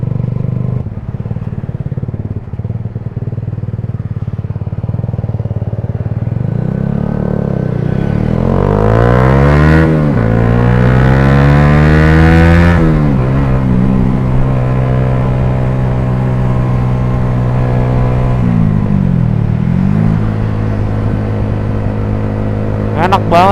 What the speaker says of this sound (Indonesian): knalpot yang suaranya kayak gini